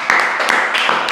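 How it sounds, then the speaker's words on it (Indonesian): Several sharp hand claps ring out in a loose, uneven rhythm at close range, part of a small group applauding during an indoor talk-show conversation about a company's marketing staff. "Tepuk tangan dong"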